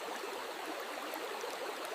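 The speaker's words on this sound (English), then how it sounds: "The current keeps rushing through a narrow blue channel" A cold winter stream rushes through a narrow channel, giving a steady, dense hiss of flowing water that is continuous and even, with no voices.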